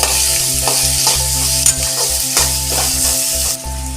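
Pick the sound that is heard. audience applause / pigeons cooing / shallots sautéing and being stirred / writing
shallots sautéing and being stirred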